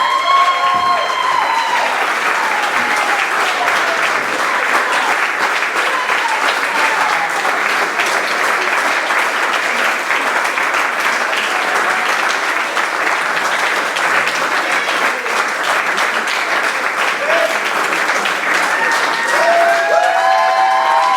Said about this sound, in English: we're going to have to have a huge round of applause for the Godden Club Person of the Year, Finl